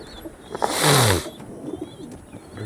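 A pigeon gives one soft, close coo lasting under a second, followed by faint chirps against a quiet background.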